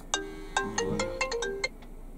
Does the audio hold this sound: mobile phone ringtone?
yes